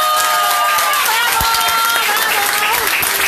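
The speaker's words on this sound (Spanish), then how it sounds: "Y voy a pedir ese aplauso reiterado" Guests at a family celebration give loud, sustained applause for a father-in-law, with crowd noise and voices running over the clapping throughout.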